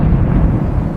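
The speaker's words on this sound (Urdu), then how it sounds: "یہ بس بادلوں کی گرج کی آواز ہے۔" A deep, dense rumble of thunder rolls continuously and loudly for about a second, a heavy low roar with no voices.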